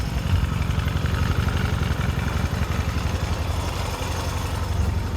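A 1979 Yamaha XS650 motorcycle engine idles steadily, a close, loud, even mechanical thrum with light clatter throughout and no talking.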